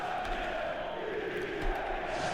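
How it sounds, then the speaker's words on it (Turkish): A large stadium crowd in the video game exTReme 17 roars and cheers in a continuous, even wash of noise, sustained throughout without pauses. "Ve işte tezahüratlar."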